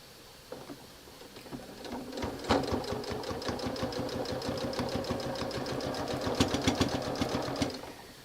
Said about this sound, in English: It's still sewing.